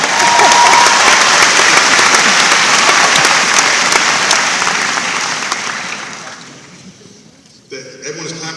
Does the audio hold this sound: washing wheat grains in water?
no